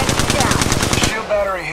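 Rapid automatic gunfire during a squad fight in a video game, a fast burst of loud close shots for about a second before it cuts off into a short ringing tail.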